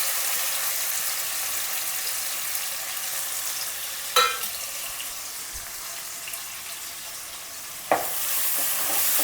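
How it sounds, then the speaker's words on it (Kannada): A tempering of onion, curry leaves and one or two dry red chillies fries in oil, a steady close sizzle broken by two sharp utensil knocks. "ಒಗ್ಗರಣೆ ಹಾಕ್ತಾಯಿದ್ದೀನಿ."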